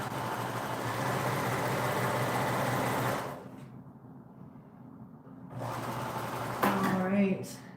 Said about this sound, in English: I'm going to go to the machine and I'm going to sew it from this side down the machine